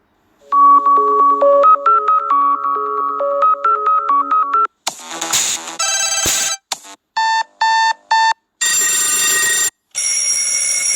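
An Android phone ringtone plays back loud and close: a tinkling repeated melodic pattern, then a run of different electronic ring tones in short bursts separated by brief gaps.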